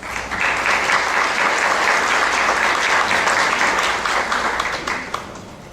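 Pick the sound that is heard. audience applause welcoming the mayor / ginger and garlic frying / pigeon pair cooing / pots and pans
audience applause welcoming the mayor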